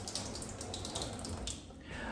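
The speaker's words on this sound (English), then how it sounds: "I am grateful for this running water here that turns on when I flip it." Water runs steadily from a tap at a parsonage sink, a continuous broadband rush that stays fairly even for a couple of seconds, close by and alone without talk.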